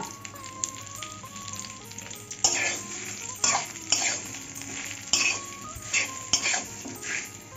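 Mango pieces for pickle being sautéed and stirred in a pan, a soft sizzle under repeated scraping and clinking of the spoon against the pan, with background music throughout.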